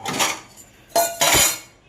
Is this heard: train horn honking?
no